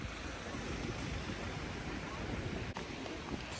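Waves and wind on a beach in Calpe, Spain, forming a continuous broadband roar of surf and gusts buffeting the microphone, with a brief dip near the end.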